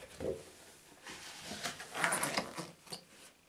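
A Polish MUA gas mask with a modern MASKPOL 40mm filter being pulled on and adjusted, a run of close, faint rubbery rustles, clicks and strap fumbling over about three seconds, with no talking.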